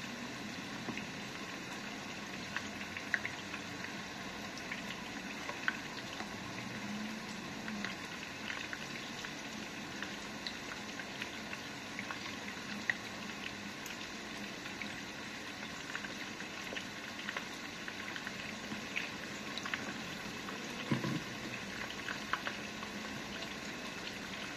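Rice simmering in a pot on a kitchen stove, a faint, steady bubbling hiss with scattered small pops and ticks, low and continuous throughout.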